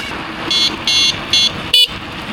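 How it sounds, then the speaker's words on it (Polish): Three short electronic beeps from a budget bicycle light's built-in horn, evenly spaced, followed by a sharper, louder chirp against a steady low background hiss. "ten e, klakson jest nieinwazyjny"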